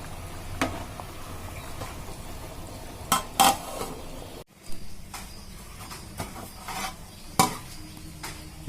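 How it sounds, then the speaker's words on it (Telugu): Palak paneer biryani being stirred in a pot over a medium flame, with a scattering of scraping clinks from a spoon against the pot and a low cooking hiss underneath, no talking. "మొత్తం కలుపుకొని మీడియం ఫ్లేమ్లో ఉడికించుకున్నాము."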